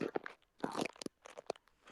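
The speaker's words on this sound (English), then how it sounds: "chewing on something" Someone chews something crunchy close to the mic, quick irregular crunches in short bursts, alone without talk.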